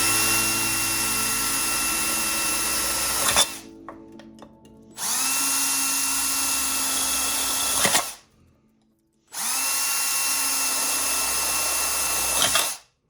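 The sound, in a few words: making holes in an aluminum beer can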